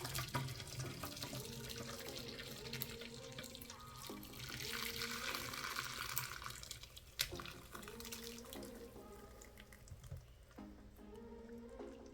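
A steady trickle of curdled milk draining through a cloth-lined strainer and splashing into a large vessel, continuous for several seconds, with faint clinks and a soft background hum.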